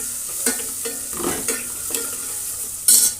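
A spoonful of turmeric is stirred into ingredients frying in a pan for tomato rasam, with a steady sizzle under repeated scraping strokes of a spoon against the pan and a sharper scrape at the end.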